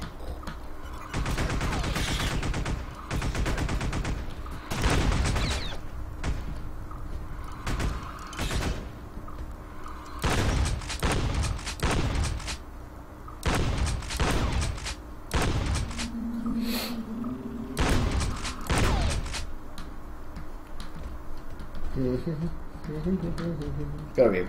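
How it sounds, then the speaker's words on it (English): Repeated bursts of sentry gun fire in the sci-fi game Space Beast Terror Fright, loud and close, coming in clustered volleys with short gaps, mixed with talking between the bursts. "I can't wait to get shot by the sentry gun."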